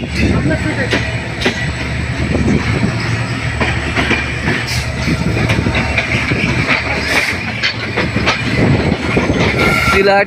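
An express train rolls steadily along the rails near Natore, Bangladesh, with a constant rumble, rhythmic clicking of wheels and occasional squeals, loud and close throughout, with voices faintly underneath.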